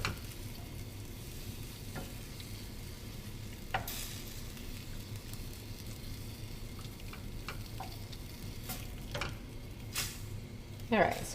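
Shrimp sizzling in a pan for shrimp scampi, a faint steady frying hiss with occasional ticks and clicks of a utensil, and a voice speaking over it.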